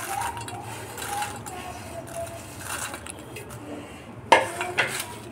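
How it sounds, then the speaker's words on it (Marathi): A spoon scrapes and clinks against a bowl while chana chaat ingredients are stirred together, giving soft intermittent stirring sounds and a few sharper knocks near the end, heard under a speaking voice. "हे सगळं चांगलं मिक्स करून घ्यायचं आहे आपल्याला"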